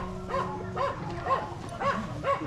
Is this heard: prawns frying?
no